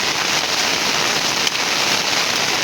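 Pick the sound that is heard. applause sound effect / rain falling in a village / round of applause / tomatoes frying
rain falling in a village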